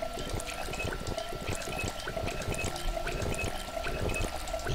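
Water poured into a container in the Project Zomboid video game, a steady splashing, trickling flow that runs continuously and fairly loud without talk.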